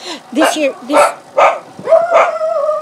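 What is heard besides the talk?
dachshunds barking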